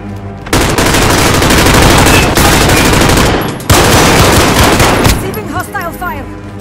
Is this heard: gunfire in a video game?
yes